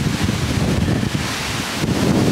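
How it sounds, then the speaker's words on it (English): Strong hurricane wind roaring steadily into the microphone, a dense broadband rush with low buffeting gusts and rustling, loud and constant with no talk. "The wind's definitely picking up."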